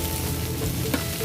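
Water hits a hot pan of fried rice or noodles, giving a steady, close sizzle and frying hiss with a brief bright splash near the end. No one speaks.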